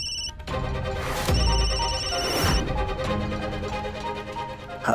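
A telephone rings in electronic tones over loud dramatic music, with swelling bursts and no talking.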